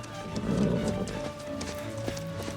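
A horse stands close by at a seaside setting, its hooves shifting and stamping with a soft snort. The sounds are faint and muffled.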